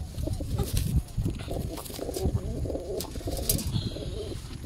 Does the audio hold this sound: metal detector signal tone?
no